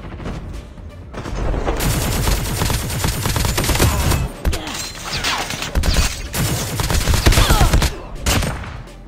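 Sustained bursts of rapid gunfire from a Call of Duty Mobile battle royale match, loud and dense, with short pauses between volleys and a thin high electronic tone partway through.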